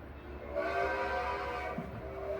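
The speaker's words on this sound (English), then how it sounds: "A train!" A train rumbles past with a sustained horn or whistle tone, moderately loud and steady for about two seconds, with no talking.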